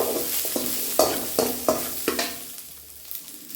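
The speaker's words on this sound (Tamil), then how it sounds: "1/2 கிலோ மட்டன் நல்லா வதக்கலாங்க." Half a kilo of mutton sautéed in a pan with cumin, fennel, cinnamon, star anise and poppy seeds: a sizzle with a series of sharp spatula scrapes and stirs, about six strokes, fading quieter toward the end.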